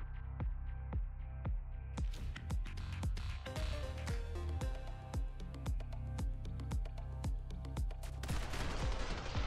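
Gunfire in the video game The Hong Kong Massacre: rapid, sharp shots crack in a dense irregular series, near and loud, with heavy bursts throughout and a thicker volley at the end.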